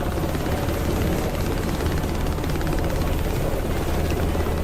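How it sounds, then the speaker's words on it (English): A helicopter comes in to land in a video game, its rotor making a loud, steady, dense roar that holds unbroken throughout. "Come on, helicopter, land!"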